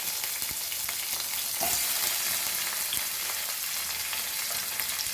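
Garlic, chilies and onion fry in hot oil for Goan elephant yam bhaji, giving a dense, continuous sizzle with a few soft stirring clicks, close and steady throughout.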